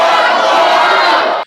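Wrestling fans at an independent GIPW show yell in a dense, loud, close crowd roar that holds steady before cutting off abruptly.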